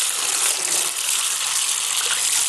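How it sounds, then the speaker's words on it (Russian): Warm water gushes steadily through an air filter being flushed in reverse over a basin, a loud, continuous hissing splash with no breaks and no talk. "теплой водой начинаем промывать в обратном направлении."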